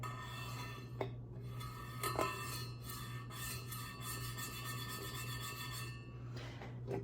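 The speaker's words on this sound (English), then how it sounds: "So you can scrape the cup on the outside, you can also scrape it on the inside." A metal cup is scraped, giving a steady, close, gritty rasp that runs the whole time, with a few brief sharper scrapes and clinks along the way and no talking.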